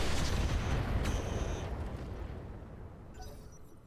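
Heavy weapons fire from battle mechs in the Roguetech BattleTech video game: a loud burst of booming, rumbling blasts with sharp crackling hits, fading into a long rolling decay.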